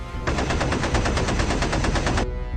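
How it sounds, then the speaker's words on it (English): A bomber's tail-mounted machine gun fires one long, steady burst of rapid, evenly spaced shots, loud and close, running for about two seconds before cutting off. "The tail gunner, Viglino, fires away"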